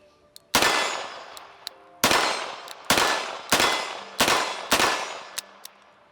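A small, lightweight J-frame revolver fires six sharp, loud shots at uneven intervals of roughly half a second to a second and a half, each ringing briefly before fading, with faint clicks between.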